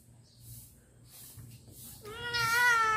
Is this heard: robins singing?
no